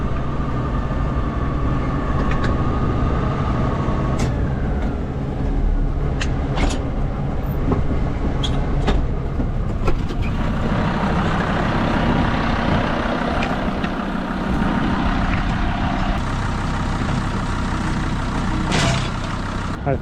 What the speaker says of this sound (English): Eli's gonna love this audio with the air conditioner running and the tractor.